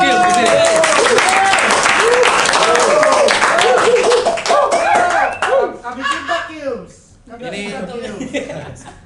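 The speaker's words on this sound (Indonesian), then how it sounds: "Kita beri tepuk tangan yang paling meriah." Live audience at a rap show breaks into loud clapping and cheering that trails off into scattered claps, with voices, whoops and laughter mixed through it.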